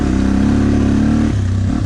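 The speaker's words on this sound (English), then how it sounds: "First gear, second gear, just chugging up." A Yamaha TTR 250 dirt bike chugs uphill in second gear, its single engine loud and close with a steady low throb that drops in pitch as the load changes.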